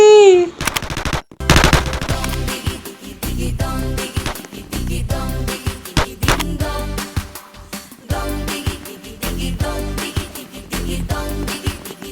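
Rapid automatic gunfire bursts in a Squid Game-style video game, loud repeated volleys with brief gaps over game music, continuing throughout.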